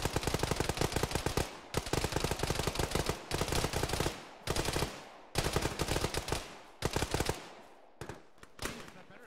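A vehicle-mounted machine gun in an ArmA battle fires long, rapid bursts of heavy automatic fire. The bursts are loud and close, separated by short gaps, with quieter clusters of shots near the end.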